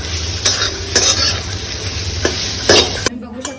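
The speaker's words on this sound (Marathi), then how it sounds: "याला आपल्याला चांगल्या प्रकारे मिक्स करायचं आहे तुपाला" Grated coconut being stirred in hot ghee for coconut barfi, a close, constant sizzle broken by sharp spoon scrapes and clinks against the pan every half second or so, cutting off abruptly near the end.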